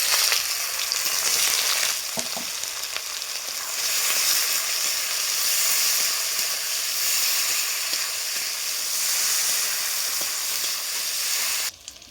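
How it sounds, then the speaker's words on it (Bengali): Sliced onion and green chillies frying in hot oil, a loud, continuous bright sizzle that stays steady throughout with no talking. "এবার দিয়ে দেবো কাটা রাখা পেঁয়াজ আর কাঁচা লঙ্কা"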